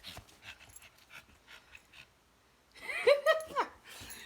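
A dog pants and whimpers close by in a few quick, breathy bursts, after a stretch of quieter rustling and faint background voices.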